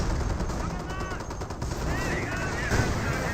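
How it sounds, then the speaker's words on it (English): Bursts of gunfire crackle through a Company of Heroes battle, rapid machine-gun style rattles and shots sounding steadily across the clip with a dense battlefield din underneath. "Lieutenant receiving quite a bit of fire right there."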